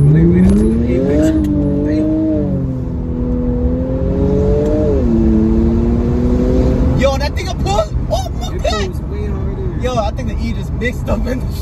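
A tuned Infiniti Q50 running an E30 fuel mix pulls hard under acceleration, its engine note climbing steadily before an upshift breaks it around midway, then rising again as loud in-car chatter takes over.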